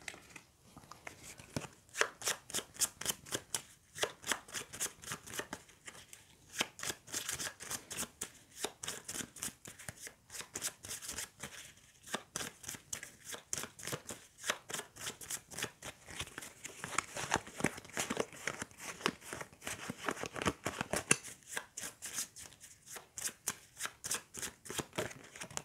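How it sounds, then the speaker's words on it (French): A deck of legend cards for the board game Heat riffled and shuffled over and over at close range, crisp rapid flutters repeating in a steady rhythm for a long stretch. "On va remélanger le paquet des légendes."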